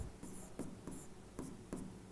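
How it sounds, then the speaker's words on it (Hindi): Chalk or marker strokes on a board during a Class 12 chemistry lecture on electrochemistry and the Nernst equation, with five or six short scratchy strokes in an irregular rhythm, heard close and alone. "यहां पर लिखता हूं"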